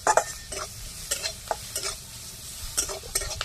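Vegetables for a soybean momo filling being stir-fried in an outdoor street-style setting, with a sizzling hiss broken by repeated sharp scrapes and knocks of a spatula against the pan, close and clear.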